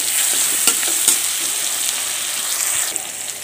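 Fish frying in a pan with onion, green chilli and salt added, a steady close sizzle with a couple of sharp stirring clicks near the start and no talking.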